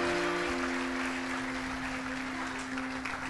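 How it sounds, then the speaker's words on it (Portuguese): Church congregation applauding during a service, a steady wash of clapping blended with a sustained organ or keyboard tone underneath. "Dá uma salva de palmas a Jesus pela vida deles."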